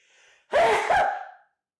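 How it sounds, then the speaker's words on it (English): A man gives one loud, forceful sneeze up close, a sharp sudden burst after a quick intake of breath, alone with no talking over it. "aggressive sneeze"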